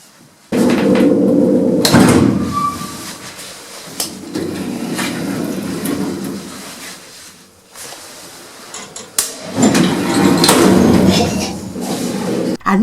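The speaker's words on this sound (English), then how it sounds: "on the inside of this lift it's got an automatic door taking up half the door frame" An automatic lift door in a German building slides open and closed with rumbling motor runs and clunks, loud and close, separated by quieter pauses and ending in thuds.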